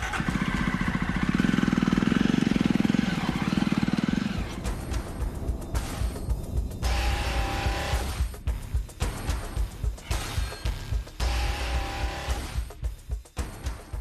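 A small auto rickshaw drives along a street, its engine loud and steady at first, then receding into fluctuating road noise with passing traffic.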